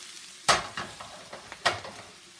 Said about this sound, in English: Stir it up a little bit.